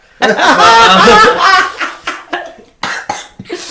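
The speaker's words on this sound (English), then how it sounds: "so if you hear him cough, that's why" A voice breaks into a burst of coughing or snickering, followed by several shorter, sharp coughs spaced out over a few seconds, close and loud.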